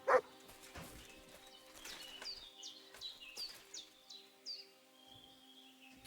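A dog named Mutt barks in Kingdom Come Deliverance 2, giving a few short, moderately quiet yips spaced across the moment over steady game ambience, with birds chirping faintly in the background.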